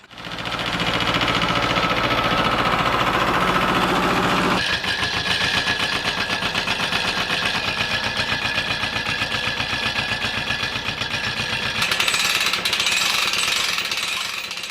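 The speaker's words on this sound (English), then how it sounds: "It has a little 2-cylinder diesel engine in it, about 17 horsepower. It just chugs away" A 1978 Yanmar YM1700 tractor's small 2-cylinder, 17-horsepower diesel engine runs nearby in a steady, loud, rapid mechanical chug with a rattling clatter and no talk.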